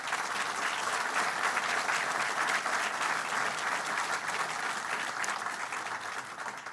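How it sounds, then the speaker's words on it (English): Steady applause from a large crowd at a New York City event, honoring police union leader Pat Lynch before uniformed officers; dense, sustained clapping throughout that eases slightly toward the end. "Let's give him a round of applause."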